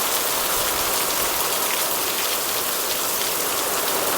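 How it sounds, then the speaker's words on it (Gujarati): Heavy unseasonal rain lashing down in a village during strong wind, a loud, steady, dense roar of drops on surfaces with no pauses. "પવન છે બહુ અને અહાડ મહિનાનો વરસાદ આવતો હોય એવો આવે"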